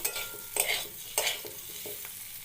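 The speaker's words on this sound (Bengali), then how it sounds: "ভেজে নেব পনির আর সবজিগুলো একটু সাথে ভেজে নিয়ে নামিয়ে রাখবো" Paneer and vegetables fry in a pan with cumin and coriander powder, a soft, quiet sizzle broken by a few distinct scraping strokes of a spoon stirring the mix.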